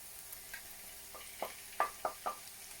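About 200 grams of beef mince hits a hot pan with cooked potato and onion, faint sizzling under a few soft scraping stirs that grow slightly louder toward the end.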